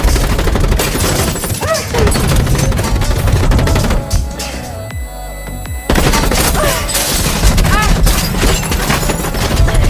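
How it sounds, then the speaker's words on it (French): Dense gunfire sprays bullets into a room in a sustained loud barrage with booms, pausing briefly in the middle before resuming at full force. "Les ennemis se mirent à arroser l'intérieur de balles en profitant de l'ouverture"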